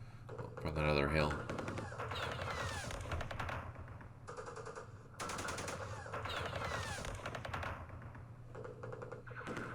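Gunfire in the Vietnam War game Campaign Series Vietnam, sustained rattling machine-gun bursts and shots, repeating across the whole stretch under a steady background hum.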